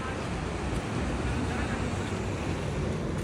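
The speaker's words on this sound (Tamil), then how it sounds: "இந்த பீச்சு எவ்வளோ பெரிய அளவு இருக்குது பாருங்கள்." Ocean surf rolls in at a broad beach in Goa, a steady loud wash of breaking waves with wind across the microphone and no pauses.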